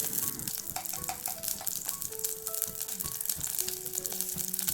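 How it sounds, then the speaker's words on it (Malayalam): Two tablespoons of coconut oil go into a clay pot and start to heat, a busy crackling sizzle with a few faint ringing tones over it. "ഒരു മൺചട്ടിയിലേക്ക് 2 ടേബിൾ സ്പൂൺ വെളിച്ചെണ്ണ ഒഴിച്ചു കൊടുക്കാം"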